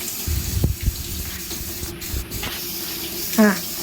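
Running tap water splashes steadily over cooked pasta being rinsed in a sink, with brief clatters and a voice speaking over it.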